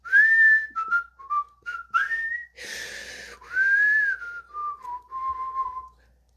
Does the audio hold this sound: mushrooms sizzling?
no